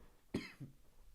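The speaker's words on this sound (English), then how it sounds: "have like a cough that's down here." A single sharp cough from a man, close and fairly loud, followed by a brief throaty tail, with no speech around it.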